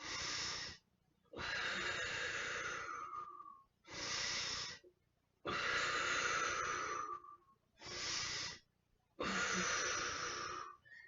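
Slow, deep yoga breaths alternate between long airy inhales and exhales with brief silences between them, close and clear, six breath sounds in all, with no talking.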